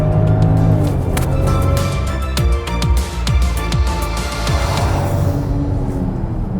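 A 2022 Range Rover Velar accelerates with a steady engine drone, and its revs rise and fall as the transmission shifts through gears, loud and close.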